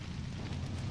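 In Tomb Raider: The Angel of Darkness, fire burns in the Louvre storm drains with a low, steady roar and rumble for about a second, loud and unbroken, with no voices.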